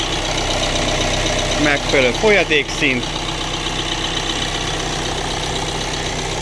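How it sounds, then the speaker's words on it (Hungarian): Renault Trafic 1.6 dCi diesel engine idling, a steady close mechanical hum and clatter running throughout, with someone speaking briefly over it midway. "Hát így dolgozik a motorunk."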